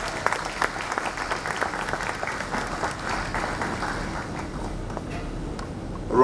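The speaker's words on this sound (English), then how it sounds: "A round of applause for the chairman." An audience at a law week opening ceremony in Lagos gives the chairman sustained applause, dense clapping that carries steadily throughout.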